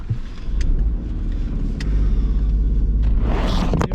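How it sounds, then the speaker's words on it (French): A car engine rumbles steadily and pulls away, close and loud, with a low throbbing drone and a few small clicks and knocks over it. "on reprend la voiture et direction prochain spot"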